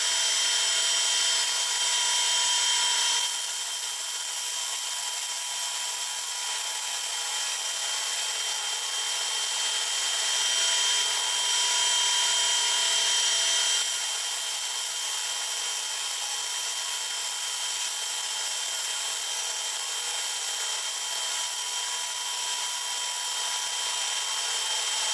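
A taper is turned on a metal part for an air engine converted from a compressor, giving a continuous, steady high-pitched machining whine. It runs unbroken for the whole stretch, with a slight change in tone partway through.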